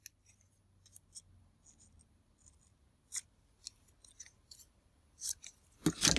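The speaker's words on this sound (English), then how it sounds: "you can take your papers and you can cut them down" Scissors snip through journal paper while making Christmas tags and cards: several short, crisp cuts in quick bursts, louder toward the end, over a quiet room.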